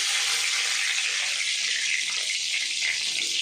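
Cumin and bay leaf frying in hot oil for a vegetable daal, a steady bright sizzle holding at a constant close, loud level throughout.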